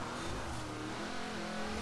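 A McLaren road car in the racing video game Forza Horizon 4 revs hard and continuously, a dense, loud engine roar with faint tire squeal mixed in, filling the whole moment with no talk.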